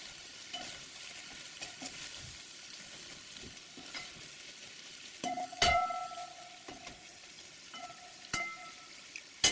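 Carrots sizzle steadily in a hot pan, with occasional scrapes and clinks of a utensil stirring; close and quiet, no voices.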